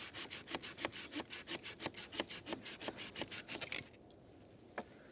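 A Laplander hand saw rasps rhythmically through wood in quick, even back-and-forth strokes, then stops, leaving near silence with one faint knock.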